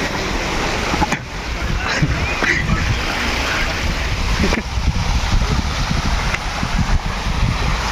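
Gavli Dev waterfall in Ghansoli, with water rushing steadily as a broad noisy wash close by, wind buffeting the microphone, and brief knocks and faint voices mixed in.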